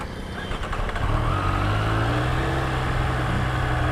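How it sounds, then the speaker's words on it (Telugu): A Ducati Panigale motorcycle engine cranks briefly, then catches and settles into a loud, steady close-up idle rumble. "and it's time to start the bike"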